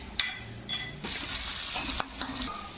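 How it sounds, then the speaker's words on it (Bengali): Chopped ginger and garlic frying in a spoonful of refined oil, heard as a quiet sizzle with a few sharp clinks and scrapes of a spoon against the pan, close and fairly soft. "দিয়ে দেবো কিছুটা পরিমাণ আদা কুচি, কিছুটা পরিমাণ রসুন কুচি।"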